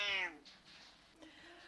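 A pet cat gives a single clear, drawn-out meow at the start, followed by quieter faint rustling and a softer trailing cry in a quiet indoor room.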